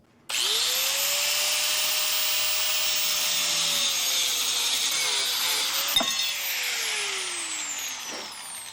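Angle grinder with a worn blade cutting metal for a camper van kitchenette: a loud, continuous high whine starts abruptly, the pitch sags as the blade bogs under load, then the motor winds down near the end.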